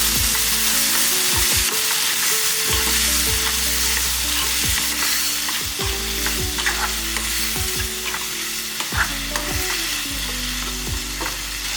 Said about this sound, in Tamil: எல்லாம் ஒன்றா சேர்த்து நல்லா வதக்கிக்கலாம்